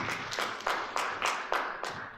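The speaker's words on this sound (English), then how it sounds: "A big clap." Steady, evenly spaced rounds of handclaps from an audience at a project commissioning ceremony in Ankole, about seven distinct claps, faint and slightly distant with no talking.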